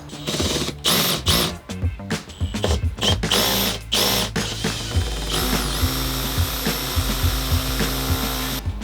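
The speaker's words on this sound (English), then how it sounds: "I am going to basically drill in the screws just a little bit, just like Jen mentioned earlier." A power drill drives screws into the ceiling panels of a camper van build in short, loud, revving bursts with brief gaps, ending in one longer steady run.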